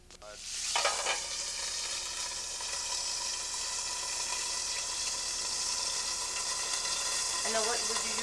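Steak frying in a pan gives a loud, continuous hiss and sizzle that starts abruptly and holds steady, with faint crackles and no talk over it.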